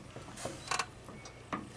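A bumper is bolted onto a vehicle with a hand tool: a short run of soft metallic clicks and ratcheting taps, close and fairly quiet, with no talking.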